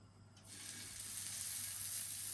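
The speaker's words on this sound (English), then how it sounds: "You hear that sizzle?" Chicken kebabs hit a pan greased with olive oil over a medium flame, and a faint crackle jumps into a steady, rising sizzle that continues on its own.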